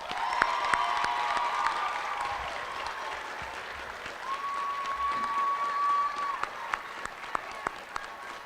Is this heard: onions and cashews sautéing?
no